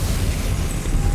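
The Depulso spell is cast in Hogwarts Legacy, giving a loud, continuous, rumbling blast of force that fills the short moment.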